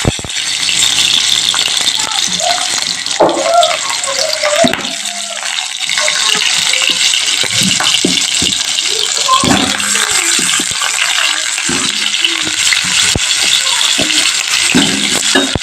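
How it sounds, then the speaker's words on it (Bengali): Potato pieces frying in hot oil in a home kitchen, a loud continuous close sizzle with rattling clicks and scrapes from the pan and utensil throughout. "তেলটা গরম হয়ে গেছে, আগে ফার্স্টে আমি আলুগুলো ভেজে নিচ্ছি"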